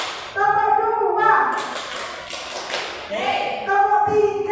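Hand claps in a group clapping game, a short burst of claps sounding between stretches of voices chanting the count in a classroom-like setting.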